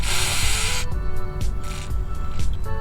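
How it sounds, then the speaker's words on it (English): Lubricant sprays from an aerosol nozzle into a car's ignition key slot in one loud, close hiss lasting under a second, then a quieter rustling background. "Alright, I have sprayed a good amount."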